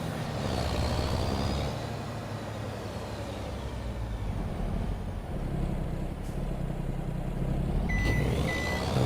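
Truck reverse alarm beeping steadily over a low diesel engine rumble in Farming Simulator 22, the tones running close and continuous with no talking.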